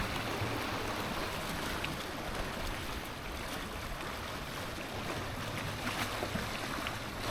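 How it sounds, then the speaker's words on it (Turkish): Choppy seawater slapping and washing steadily around a fishing spot in a cold storm, a dense broadband rush of waves and wind-like noise that stays constant and fairly loud throughout, with no voices. "Hava çok soğudu. iyice dalga çıktı ya şansa."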